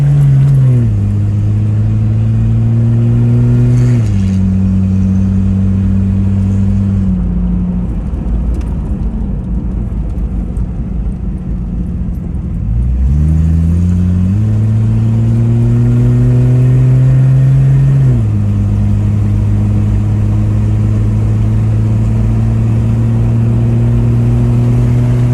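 A Jeep Grand Cherokee rescued from a junkyard, out on a shakedown drive around the block, its engine loud and close, climbing in pitch through gears, easing off midway, then pulling up again.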